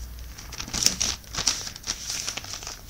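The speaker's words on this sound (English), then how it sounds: "Page turn." Paper page being turned, a few soft crinkling rustles and light crackles close by, quiet and irregular against a faint background.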